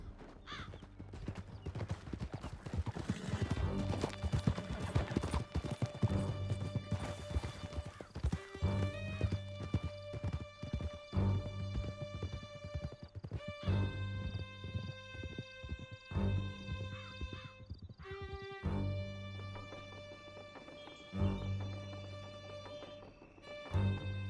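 Horses gallop through a canyon in Red Dead Redemption 2, with loud, fast, continuous hoofbeats, a sharp whinny near the start, and a sustained musical score swelling beneath the pounding rhythm.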